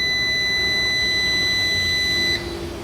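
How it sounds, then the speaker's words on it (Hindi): An INVEREX AEROX 2020 3.2 kW solar inverter starting up with no battery connected gives a steady, loud electronic beep as its error alarm. The tone holds for over two seconds, then cuts off abruptly over a low background hum. "अब ये जो बीपी का एरर दे रहा है इसका मतलब है इसमें बैटरी नहीं है।"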